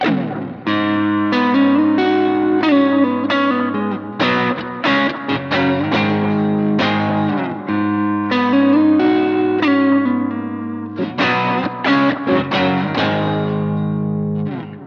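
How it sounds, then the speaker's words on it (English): Electric guitar through a Kemper profile of a little Gibson Skylark amp, playing driven chords and riffs with brief pauses between phrases, loud and close with some reverb. "That is the little Gibson Skylark, and it's a great little amp."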